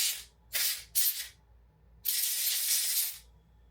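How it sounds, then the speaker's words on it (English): Canned air blasts at the extruder area of a Bambu Lab A1 3D printer: three short hissing bursts, then one longer spray of about a second, loud and close with quiet gaps between. "Next, I like to give this area a quick hit with some canned air."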